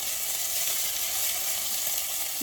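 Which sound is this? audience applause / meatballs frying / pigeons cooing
meatballs frying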